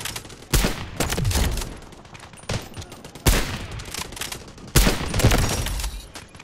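Gunfire in the Delta Force video game comes in loud, close bursts: rapid automatic volleys at three points, separated by quieter gaps, with almost no speech.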